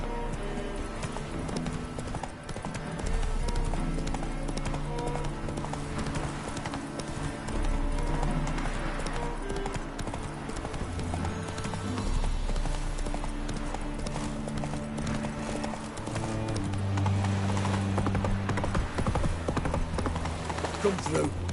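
Roach the horse gallops through The Witcher 3, hooves clip-clopping steadily beneath continuous game music, with a voice talking over the ride.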